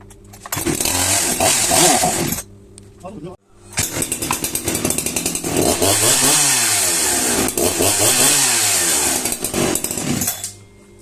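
A Hyundai H865 engine, likely a small power-equipment motor, runs loud and close, revving in a harsh buzzing roar that cuts out briefly around the two-second mark before resuming with rising and falling pitch.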